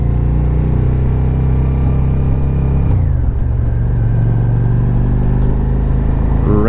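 A loud motorcycle engine drones steadily while riding through the town of Wilmington, Vermont, with the pitch dropping as the bike eases off, then climbing again as it accelerates.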